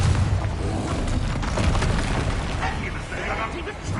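Confringo blasting spell exploding in Hogwarts Legacy, a loud broadband boom with rumbling low end and crackling debris, sustained over several seconds as part of busy game combat.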